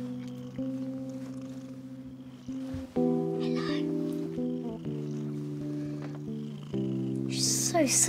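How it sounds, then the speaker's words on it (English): A soft, friendly stray cat purrs in a cartoon, the low purr sitting beneath steady music tones with a few brief higher sounds over it. "Listen. She's purring."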